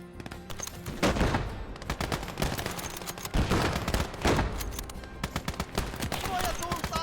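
Bursts of rapid video game gunfire from infantry combat, loud sharp volleys and machine-gun rattles repeating through the stretch, with a player talking over the shooting.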